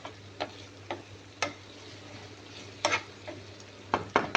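Onion, garlic, ginger and tomato frying in a pan, a soft steady sizzle broken by several sharp stirring scrapes and clinks of a utensil against the pan.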